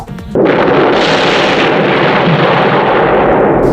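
A film-set explosion of a gas station filled with fuel erupts in one sudden, massive roaring blast that holds loud and sustained for several seconds.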